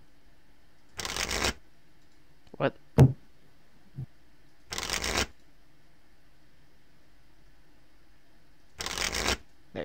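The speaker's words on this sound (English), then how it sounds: "Don't shuffle my hand." Trading cards shuffled during a Force of Will card game, three short riffling bursts spaced a few seconds apart, close and crisp, with brief talk and small table knocks between them.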